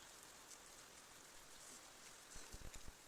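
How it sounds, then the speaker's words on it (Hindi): Steady rain falls on surfaces nearby, a constant hiss with scattered drop taps and a few heavier patters near the end. "आप देख ही सकते हो यहाँ पे कैसे बारिश हो रही है"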